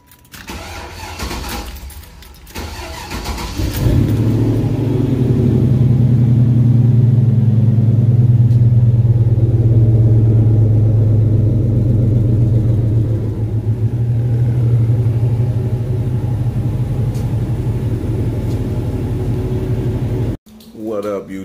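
An Impala's engine cranks and catches on a cold start, then settles into a loud, steady, deep idle with light throttle blips, close up. It stops abruptly near the end, with some talking before and after.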